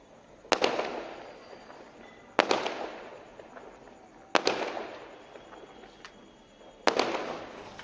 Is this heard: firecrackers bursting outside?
yes